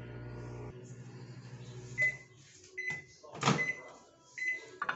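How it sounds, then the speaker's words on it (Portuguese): A microwave oven cooks a beaten egg in a heatproof dish with salt: a low steady hum for under a second, then quieter running with a few clunks and beeps from the appliance. "1 minuto no micro-ondas."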